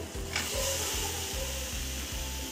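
Squeezed soya chunks fry in a pan with sesame seeds, giving a loud, continuous close-up sizzle with a sharp crackle near the start and a faint rhythmic stirring pulse underneath.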